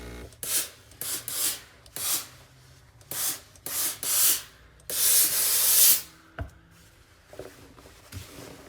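Steam iron hissing in repeated bursts while pressing the hem of a sewn casual shirt, short blasts alternating with quiet gaps and one longer loud spray near the end, close and clear.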